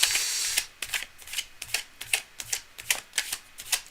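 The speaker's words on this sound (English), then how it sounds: "Cards are well shuffled." Tarot cards are shuffled by hand: a rapid riffle at first, then a series of crisp, regular slapping flicks about twice per second, close and clear with no talking.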